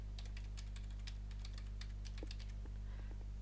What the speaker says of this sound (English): I'm going to type in a proper password.